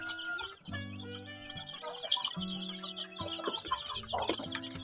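Young broiler chicks in a brooding house give a busy chorus of high chirps and peeps, with a few lower clucks and calls from adult fowl nearby, continuous and fairly close, no talk.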